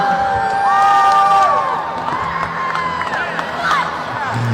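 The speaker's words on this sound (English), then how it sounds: "You hear the crowd going nuts behind me." A Monster Jam stadium crowd in Anaheim roars and cheers loudly and continuously, with high shouts and whoops rising over a dense wash of noise; a voice cuts through briefly.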